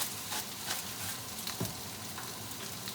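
Chicken piccata sizzles steadily in a hot pan, a continuous close frying crackle with a few brief clinks of a utensil.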